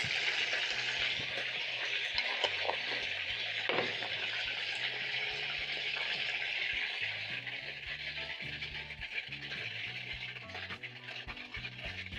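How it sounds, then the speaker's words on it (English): Steady, busy sizzling of fish frying in hot oil, a constant crackling hiss up close that continues without pause. "As the fish is frying"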